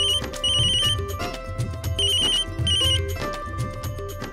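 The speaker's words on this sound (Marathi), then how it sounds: "सकाळ धरणं वाजतोय फोन तुझा" A mobile phone rings with a loud repeating electronic ringtone melody, its bursts of bright tones recurring several times in quick succession indoors.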